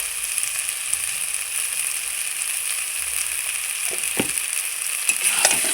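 Chickpeas and potatoes sauté with spices, salt and turmeric in a pan, a loud continuous sizzle with a few stirring scrapes toward the end, no talking.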